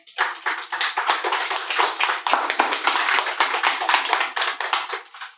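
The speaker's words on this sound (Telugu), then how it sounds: "క్లాప్స్." An audience claps steadily at a motivational mind-power workshop, with dense, continuous applause rising quickly and holding loud for about five seconds before cutting off.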